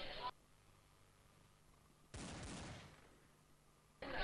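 Counter-Strike gunfire on de_inferno sounds as short sharp bursts with a longer loud volley in the middle, separated by near-silent gaps.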